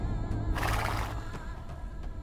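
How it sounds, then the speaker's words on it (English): A horse neighs once in the fantasy video game Microbiota, a loud whinny near the start over a low rumbling game background, followed by a few faint hoof-like knocks. "My horse grows weary of this idea."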